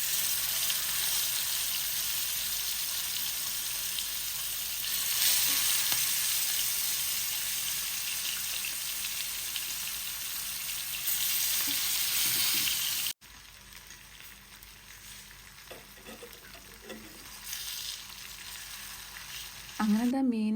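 Sardines frying in oil in a pan, a loud, steady sizzle and crackle filling the whole stretch close up, dropping to a softer sizzle partway through with a few brief stirring sounds.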